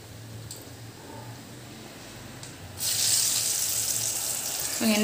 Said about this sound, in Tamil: எண்ணெயில் போட்டாச்சு